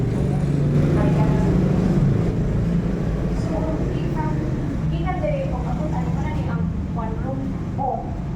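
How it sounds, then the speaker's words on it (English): City road traffic near an apartment location in the Philippines, a continuous low rumble of passing cars and buses with horn-like tones, steady and fairly loud throughout, with people talking over it. "Just that bloody traffic noise."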